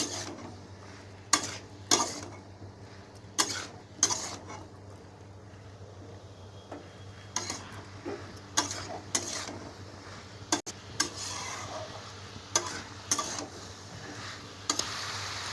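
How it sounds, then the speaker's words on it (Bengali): Mixed vegetables fry in a pan under a soft steady sizzle, punctuated by a dozen or so sharp spatula scrapes and clinks at irregular intervals, close by with a low hum beneath and no talking. "সবজিগুলো একটু ভাজা ভাজা করে নেবেন ভালো করে"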